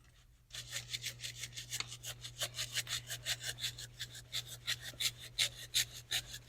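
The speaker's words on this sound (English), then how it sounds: "he used the handsaw and help us out." A handsaw cuts through wood for a sign in quick, even back-and-forth strokes, each stroke a crisp rasp, close and steady with no voices over it.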